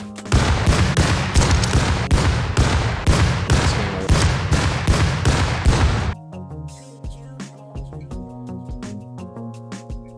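Rapid loud explosions and gunfire in the Rust video game as grenades are thrown at an auto turret, a dense barrage for about six seconds, then quieter clanking and musical tones.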